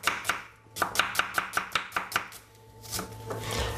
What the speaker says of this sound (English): I'm just cutting up some red onion